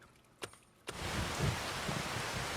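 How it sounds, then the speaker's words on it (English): Steady rain falling over farmland in Farming Simulator 25, with a couple of soft thumps before the downpour starts, then continuous even hiss with nothing else on top. "So I'll just wait till the rain stops"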